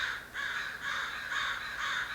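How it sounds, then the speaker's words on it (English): Several crows caw outdoors beyond a window in a steady run of harsh, repeated calls, about five raspy caws in sequence at moderate loudness with no talking. "Right now, there's, like, a bunch of crows"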